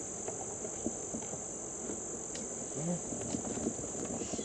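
Many honey bees hum steadily inside an open backyard hive stacked three boxes tall, a dense, continuous drone close by with no voices over it.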